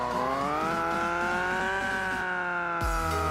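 A custom-built car engine in the BeamNG.drive driving game screams at very high revs, peaking near 9,000 RPM, a steady whining drone that rises slightly in pitch, then drops sharply at a shift or lift near the end.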